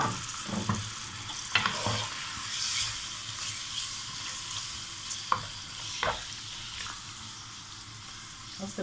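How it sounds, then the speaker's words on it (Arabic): Chicken breasts frying in a little oil in a pan, a steady crackling sizzle with a few sharp scrapes and knocks as they are stirred, moderately close and without talk. "حطيت في الطاسة حبة زيت كده صغيرين، وهحط الصدور وهفضل اشوح فيها"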